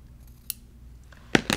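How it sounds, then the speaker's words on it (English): Scissors snip fabric and interfacing for a quilt block, a soft cut near the start and then two crisp close snips at the end, with no talking. "we're going to snip a little hole, and we're actually going to cut this down"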